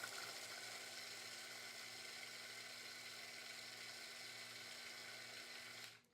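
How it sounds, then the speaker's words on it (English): A food processor purees deviled egg filling, a loud steady motor whir with a constant hum that runs for about six seconds before cutting off abruptly at the end. "I'm gonna do the loud thing. I'm gonna puree this until it's very smooth."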